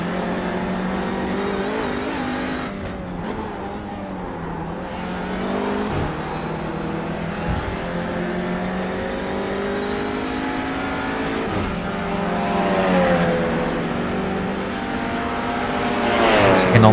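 Audi touring car engine in the iRacing simulator, droning loudly and rising in pitch through repeated upshifts along a straight, with a commentator talking over it throughout.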